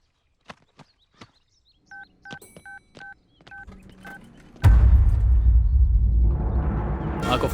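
Rapid pairs of telephone keypad tones beep in short, even bursts as a number is dialed, preceded by faint clicks, then cut off by a loud, dense burst of noise.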